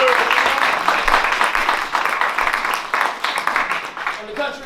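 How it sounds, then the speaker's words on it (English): Audience at a live MLK tribute jazz concert applauds a fiddle player from Queens, New York, with dense, loud clapping and cheers that swell and fade, a voice breaking in near the end. "Please, a wonderful, wonderful round of applause, Mr. Teddy Chubb."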